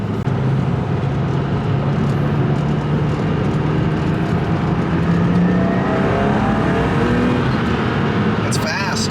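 A BMW E36 M3 in Avus Blue idles steadily and smoothly, a constant close engine hum lasting throughout with slight shifts in pitch near the end.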